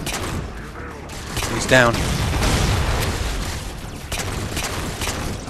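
Gunfire and explosions in the video game Halo 4, heavy booming blasts and rumbling bursts over a dense game soundscape, with a voice speaking briefly.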